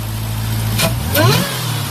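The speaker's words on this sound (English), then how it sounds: "Alright, give it a rev." A Jeep Grand Cherokee Trackhawk with a Hellcat engine is revved with the hood open, a steady idle rising into one strong, close rev and falling back.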